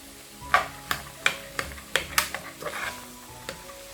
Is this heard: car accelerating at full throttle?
no